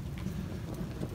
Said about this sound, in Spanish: ya oficialmente está lloviendo.